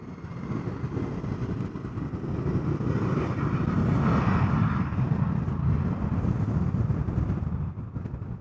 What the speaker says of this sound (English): And the Embraer 190 off to Dublin, taking to the skies.